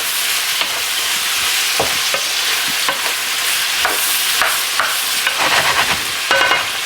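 Oxtails and vegetables fry in a pan over high heat, giving a loud continuous sizzle with scraping stirs and clatters as the pan is moved.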